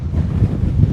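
Strong wind off the ocean buffets a microphone beside a coastal boardwalk, a loud, close, continuous low roar with gusty swells and no voices.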